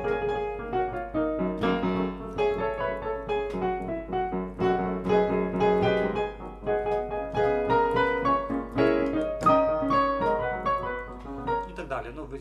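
A solo jazz piano improvises on a standard, with flowing chords and melodic runs in an even rhythm, clear and up close.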